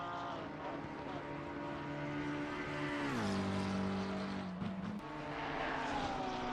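Race cars 68 and 599 battle at the Watkins Glen 8 Hours endurance race, engines droning steadily at high revs, then one note drops sharply as a car passes and recedes, the roar carrying on at moderate distance.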